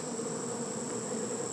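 A dense swarm of bees, roughly two or three pounds of them, buzzes steadily and close by in a continuous, even drone with no talking.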